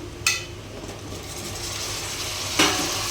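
Drumsticks are stirred into masala and oil in a pan, giving a quiet continuous sizzle with two sharp clinks of the spoon against the vessel, near and alone without talk.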